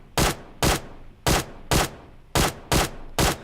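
A QBZ assault rifle in PUBG Mobile fires seven separate single shots at an uneven, deliberate pace, each a loud, sharp crack followed by a short decay, with no talking.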